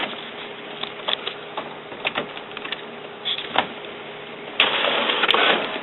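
An HP Officejet Pro 8610-series printer fitted with a continuous ink supply system runs a yellow test print, a mechanical whir with small clicks and knocks up close, then a louder, steady rush of feeding near the end.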